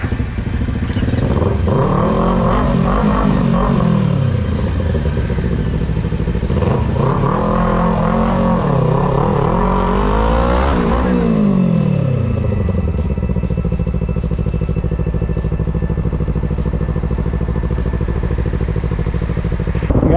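A group of motorbikes riding together in Japan, engines revving and rising and falling in pitch as bikes pass close, loud and continuous, then settling into a steady rumble.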